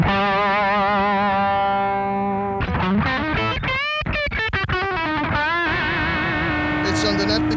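Electric guitar played through a Baroni Lab Bernie Marsden overdrive pedal with the boost engaged at a NAMM 2018 demo, a sustained distorted chord followed by quick overdriven riffing and a ringing final chord, loud and close.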